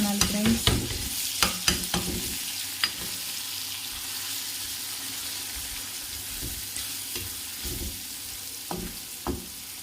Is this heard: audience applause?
no